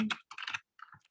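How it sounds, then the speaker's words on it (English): Quick bursts of typing on a computer keyboard, a few close clicky keystroke clusters separated by short gaps, no voices. "I can type that in the chat"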